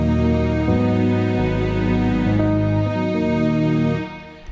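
A Roland FA-06 workstation plays a layered patch of electric piano, strings and synth vocal, sustained chords shifting every second or so, loud and close, then fading at the end.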